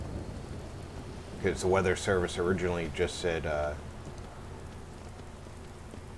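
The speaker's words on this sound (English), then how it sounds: "we got rain Thursday and Friday, and now we're getting rain again today" Steady rain patters in the background, a constant soft hiss that continues under a voice speaking briefly in the middle and carries on after he stops.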